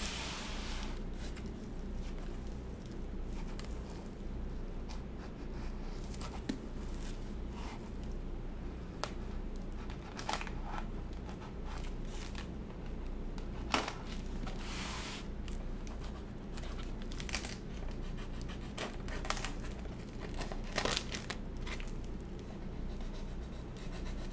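A knife scrapes and slices through packing tape on a package during an unboxing, giving repeated short, sharp scratching strokes that are spaced irregularly and heard up close over a quiet background.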